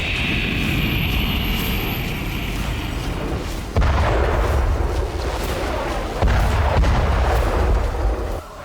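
A Zolfaghar-class ballistic missile launches from the Shahid Mahdavi carrier and strikes a desert target in central Iran: a sustained roaring rush broken by heavy, loud booms.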